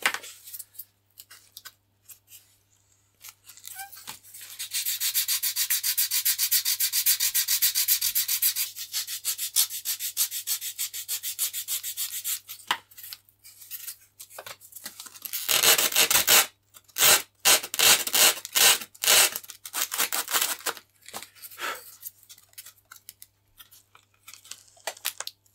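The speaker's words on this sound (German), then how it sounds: "ich nehme nie sehr feines Schleifpapier, weil man schleift sich damit einen Wolf." Coarse sandpaper is rubbed by hand over the wing during a repair of a wing built in positive construction, in long raspy scraping bursts with short pauses, then quicker, choppier strokes toward the end.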